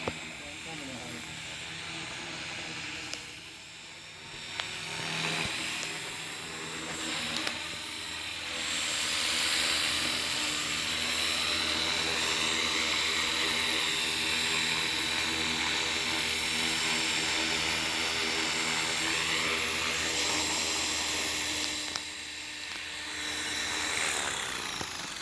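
A 270 Fusion RC helicopter flies in to land, its steady rotor whine and buzz holding loud and fairly close throughout with slight swells as it approaches, while voices talk faintly underneath.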